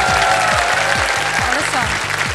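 A studio audience on the quiz show Kaun Banega Crorepati bursts into loud, sustained applause, a dense wash of clapping with faint background music tones underneath.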